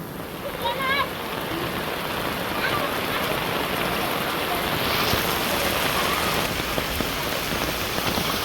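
Steady rain pours down in a Bangladeshi village, a dense even hiss of drops striking surfaces close by, continuing without pause, with a brief faint voice near the start.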